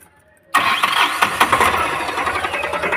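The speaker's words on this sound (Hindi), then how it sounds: "फिर गाड़ी को करेंगे स्टार्ट।" A Tata Magic Mantra with a camshaft offset fault and check engine light on cranks and fires after near silence, then settles into a loud, steady running engine note close by.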